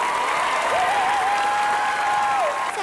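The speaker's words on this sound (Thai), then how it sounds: "คนต่อไปพร้อมแล้วขอเสียงปรบมือต้อนรับน้องพลูค่ะ" Audience applause welcoming a young contestant onto the stage at a live Thai talent show, continuous clapping throughout while a sustained vocal or musical tone runs over it.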